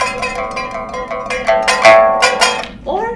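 A pipa played to imitate a Chinese percussion band of gong, cymbals and drum: sharp, crashing strummed bursts with noisy clangs and sliding tones, loud and close, building to a few strong hits.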